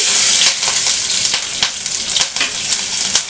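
Green chillies hit hot ghee with cumin seeds for dal fry, a loud close crackling sizzle with sharp spitting pops scattered throughout, and no one talks.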